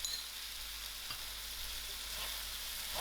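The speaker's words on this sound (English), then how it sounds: "I will lower my heat and allow my tomatoes to cook out" Tomatoes with salt frying in a pan for a chicken mince kebab curry give a steady, close sizzle that runs the whole time, with a faint stir or clink now and then.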